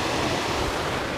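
Waterfall along a nature trail at Paradise Springs, heard as a steady, loud broadband roar of rushing water that fills the whole moment without a break.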